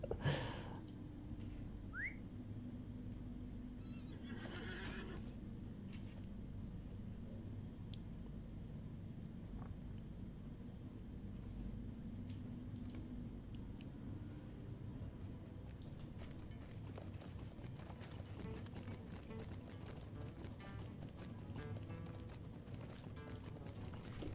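A horse mount in the Heroes of Middle-earth video game trots with steady, fairly faint clip-clop hoofbeats over low game ambience, with a brief whistle-like call near the start.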